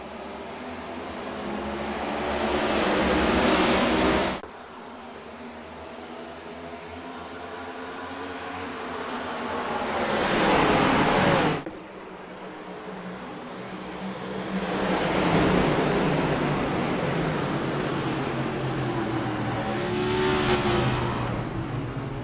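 Race car engines roar in the iRacing sim at Phoenix during a Cup Series restart, loud and close, swelling and fading in three long waves as the cars pass, with no voices over them.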